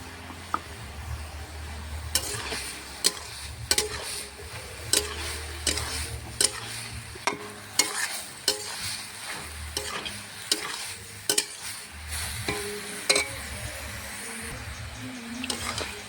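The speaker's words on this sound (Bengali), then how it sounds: "চিংড়ি মাছটা দিয়ে শাকটা ভালো করে নেড়ে চেড়ে ভেজে নিয়েছি" Shrimp and bathua greens frying in a pan, a continuous close sizzle punctuated by regular sharp clicks and scrapes of a spatula stirring against the metal.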